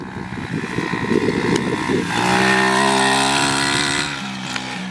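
A kid's motorbike rides through tall weeds, its engine droning loud and close, first sputtering unevenly and then settling into a steady, higher whine.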